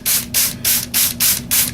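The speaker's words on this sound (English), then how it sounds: "Then you come back with your spray bottle" Six quick, even bursts from a handheld spray bottle misting water onto foam board, each a loud, close hiss separated by short gaps in a steady rhythm.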